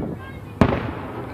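A single loud firework burst at a 4th of July display in Chillicothe, one sharp close bang with a short rumbling tail amid crowd murmur.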